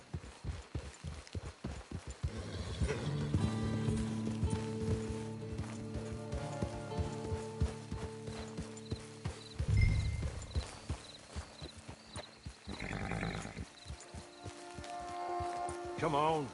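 Rhythmic hoofbeats of a horse at a run in a PS4 video game sound throughout, mid-distance, with a voice talking over parts of it and a humming tone underneath.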